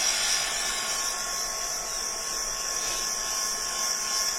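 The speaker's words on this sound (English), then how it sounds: "the key to speed drying is to keep your heat gun moving" A heat gun force-drying decoupage paint and medium on a black wooden piece blows a steady, loud, continuous whoosh with a faint high whine, holding even throughout with no talk.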